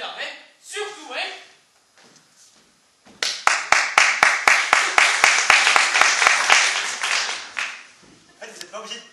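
A live theatre audience bursts into applause, with several seconds of sharp, rhythmic group clapping. Voices talk before and after it.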